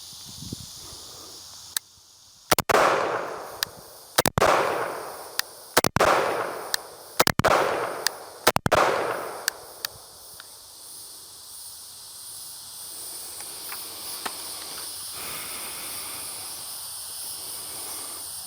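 A Sig MCX rifle fires several sharp, loud reports on the minus gas setting with its suppressor removed, each crack trailing off in an echo, then the shots thin out to a few faint clicks over steady outdoor hiss.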